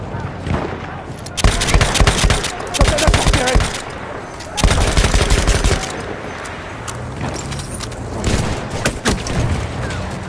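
Machine gun fire in the World War I shooter Battlefield 1, loud close bursts of rapid shots in several strings, some lasting over a second, with booming impacts and battlefield noise between them.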